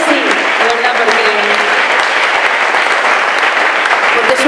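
Steady, dense applause from a concert audience in a monastery in Burgos, loud and close, with faint voices and cheers mixed in and clapping that holds throughout.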